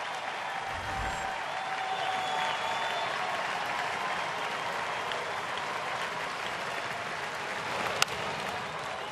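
Baseball crowd of about 25,000 at a Rockies at Braves game in Atlanta on its feet, applauding a pitcher with steady, sustained clapping and cheering that fills the whole stretch, with one sharp crack near the end.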